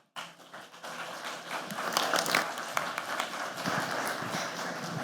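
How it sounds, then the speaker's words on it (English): An audience at a talk welcomes a speaker with applause that starts suddenly, swells to a full, dense patter of many hands and then holds steady, with no talking. "please join me in giving a warm round of applause to Christin Niehus"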